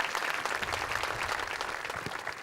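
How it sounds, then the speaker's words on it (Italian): A crowd claps steadily and loudly throughout, a dense, even patter of many hands with no talking. "Vogliamo con un applauso."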